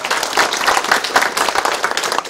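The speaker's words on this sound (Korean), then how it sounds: "힘찬 박수 부탁드리겠습니다" Applause from the audience at a community town-hall meeting with residents of Hobeop-myeon, Icheon, a steady, loud wash of many hands clapping throughout with no pauses.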